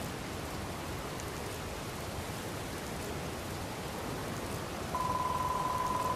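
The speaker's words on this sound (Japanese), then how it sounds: "今雨降ってるけどさ" Rain falling in the video game Dragon Quest Builders 2, a steady dense hiss of rainfall throughout, with a faint sustained tone joining near the end and no speech.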